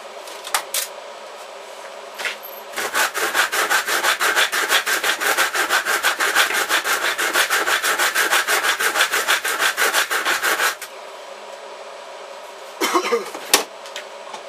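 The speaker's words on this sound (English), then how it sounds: "This saw's a bit too blunt, that one." A blunt hand saw rasps through wood in a long run of rapid, rhythmic back-and-forth strokes, with a few scraping noises before and after.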